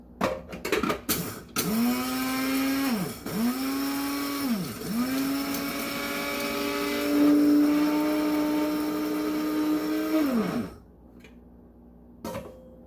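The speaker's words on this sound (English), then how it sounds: "pour it in to your coffee grinder" A small electric coffee grinder grinding oats into flour whirs loudly in several bursts, its motor pitch dipping between pulses before a long steady run that cuts off abruptly.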